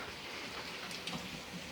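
Torrential downpour of rain in Portsmouth, Hampshire, UK, a steady dense hiss of heavy rainfall drumming on surfaces, loud and continuous throughout with no talk.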